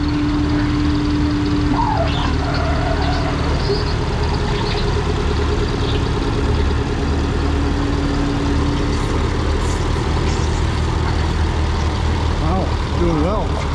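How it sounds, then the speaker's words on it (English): A Minneapolis Moline UDLX Comfort tractor at a tractor pull roars steadily and loudly as it drags the sled down the track, a continuous heavy engine drone with an announcer talking over it. "that Minneapolis Moline comfort tractor is working its way down the track"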